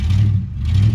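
Engine of a 1999 truck revving as it slips gear, a loud, close low rumble that surges, dips briefly and swells again over one second.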